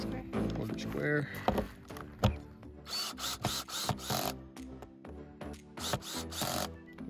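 A power drill on low speed whirs in short, repeated bursts, pausing between runs as screws are driven into shaker cabinet doors, fairly close and moderately loud.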